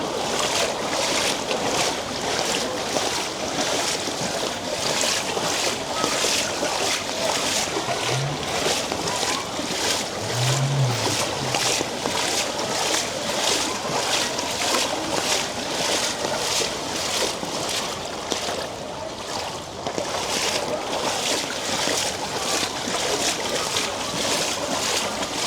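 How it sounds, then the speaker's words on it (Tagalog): Strong floodwater rushes along Espana Boulevard in Manila, a dense, continuous roar of churning water mixed with wind buffeting the microphone, loud and unbroken. "Lakas pa rin yung tubig."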